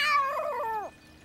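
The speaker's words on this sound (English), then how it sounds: "If you can get this cat off me" A cartoon cat gives a single long, loud, wavering yowl that bends downward and cuts off, close and alone with no talking over it.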